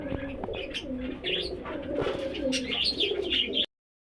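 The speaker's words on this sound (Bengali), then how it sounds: "এবার জাস্ট কবুতরে ডাক দেখে কেমনে ডাক দেখছেন দেখেন" Caged pigeons coo steadily and close by in repeated soft throaty phrases with scattered chirps for about three and a half seconds, then stop abruptly.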